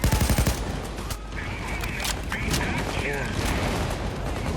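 Gunfire in the video game Payday 2, dense continuous automatic shooting with a sharper burst at the start, loud and sustained, with brief tonal game effects and players talking over it.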